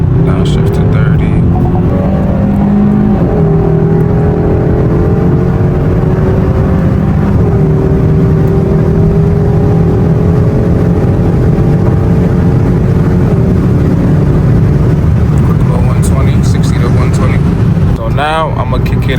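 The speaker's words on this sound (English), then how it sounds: "I'm gonna downshift all the way down to third gear in normal, and then I'm gonna just do a little send." A 2022 Hyundai Sonata N Line Night Edition downshifted to third accelerates hard, its engine droning loud and steady with rising and falling tones through most of the stretch, with a voice talking over it.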